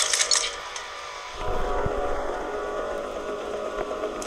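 Warship engines in a video game start with a low rumble and settle into a steady mechanical drone, with a brief hissy burst at the start.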